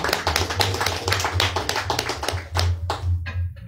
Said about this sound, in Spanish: Palmas a Cristo, hermano.